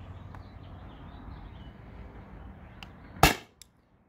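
A single sharp shot from an S2 gun firing a heavy 9.8 gram PVC-coated steel ball, a loud crack near the end after a quiet stretch, followed by a faint second tick.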